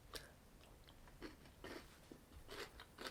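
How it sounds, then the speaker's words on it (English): Crunchy Terry's Chocolate Orange biscuit bar being bitten and chewed close up, a series of sharp crisp crunches in bursts over a few seconds, with no talking. "It's a very crunchy biscuit, it has to be said, it's crunchy."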